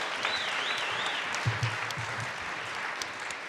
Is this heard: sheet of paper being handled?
no